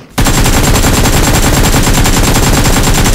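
Sustained automatic gunfire from the mobile battle royale game PUBG Mobile during a tournament match, a loud, dense, rapid rattle of shots that starts abruptly and continues without pause, with no talking.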